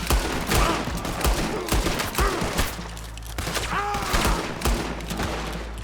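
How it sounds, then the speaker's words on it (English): Gunshots from the Red Dead Redemption II video game ring out in a loud, rapid volley of sharp cracks, with a few spaced shots, a low rumble beneath and faint voices. "One more step. And I shoot you."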